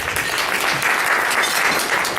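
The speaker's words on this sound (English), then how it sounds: "go ahead and give another round of applause to Miss Yewande" Audience at an entrepreneurship event applauds a performer named Yewande, close and loud, continuous clapping forming a thick wash of sound for a couple of seconds.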